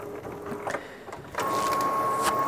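An HP DeskJet Ink Advantage 3525 inkjet printer starts up to print a report, with quiet mechanical clicks followed by a louder, steady motor whir that holds to the end.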